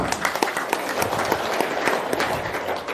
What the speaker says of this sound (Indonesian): Dan itu tepuk tangan dulu.